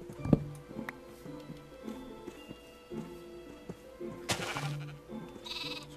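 Minecraft sheep bleat several times in short, nasal bursts, close and clear, between game sounds and a few footsteps, with no talk.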